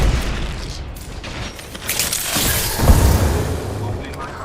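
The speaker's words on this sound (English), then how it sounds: "Arc star out." An Arc Star grenade detonates in Apex Legends, a loud electric burst with crackling boom swelling midway amid ongoing game noise and a voice.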